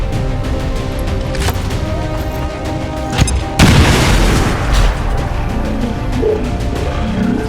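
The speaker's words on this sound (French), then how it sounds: "Grenade lancée!" A grenade detonates in the XCOM 2 video game, a single heavy boom bursting out midway after a stretch of battle ambience, then a rumbling tail that lingers to the end.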